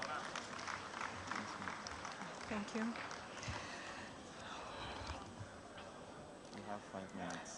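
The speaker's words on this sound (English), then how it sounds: "Please, a round of applause for her." An audience at the Coal-City 2021 opening ceremony applauds, making a steady, faint wash of many hands clapping that is mixed with crowd murmur and voices throughout.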